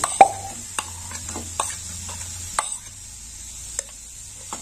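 Chopped cashews dropped into a pan, with a sharp clatter at the start, then a few soft taps and clinks nearby over a low background hum.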